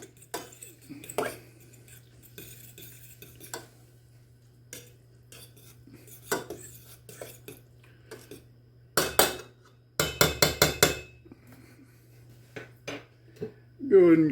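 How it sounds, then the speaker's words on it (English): Metal spoon stirring lime juice into cilantro lime rice in a pot, giving scattered scrapes and clinks against the pot with a few louder bursts of clattering near the end, over a low steady hum. "You go ahead and stir that in."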